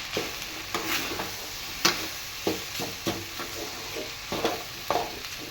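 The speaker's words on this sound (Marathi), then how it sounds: "मस्त असं परतून घ्यायचं आहे." Pulao ingredients being sautéed in a pan: a continuous sizzle with repeated sharp scrapes and knocks of a spoon against the pan at an irregular stirring rhythm, close and fairly loud, no talk.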